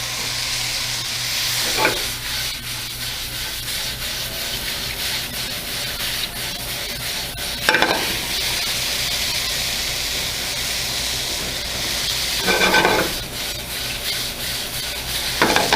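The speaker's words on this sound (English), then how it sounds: "pan's pretty much dry now, so I'm gonna add in my capers with a little bit of the caper liquid." Capers with a splash of their brine hit a nearly dry hot pan, giving a steady broadband sizzle with a few louder hissing bursts as liquid spatters, close and continuous with no talking.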